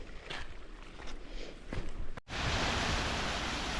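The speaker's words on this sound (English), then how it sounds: "that waterfall is splashing us with cold water" A waterfall on a hot, humid mountain hike splashes nearby as a steady, dense wash of water noise, with a sharp cut midway into an even louder, more uniform roar.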